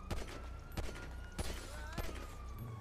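Gunfire in GTA V: four sharp shots spaced roughly half a second apart crack over a low background engine hum, fairly close and distinct.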